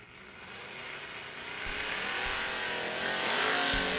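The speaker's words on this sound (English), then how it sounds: "672 in the Chevelle, before Daddis turns that Grand Am loose out 595." Drag race cars, a Chevelle and a Grand Am, roar hard off the line side by side, their engines building into a loud sustained howl that grows over a few seconds without any talk.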